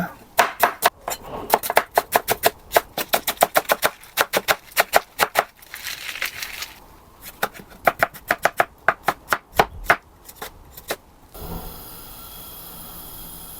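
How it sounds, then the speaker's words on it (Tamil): Onion being chopped finely with a knife on a board in a home kitchen while preparing a greens dish, heard as fast, crisp, rapid knife taps in bursts with brief pauses, close and clear, with no talk. "அதே மாதிரி இந்த வெங்காயத்தையும் ஃபைன் சாப் பண்ணிடலாங்க."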